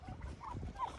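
White broad-breasted turkeys on a farm gobble in short warbling bursts, fairly quiet and a little distant, with a couple of clearer calls among the rumble of the flock.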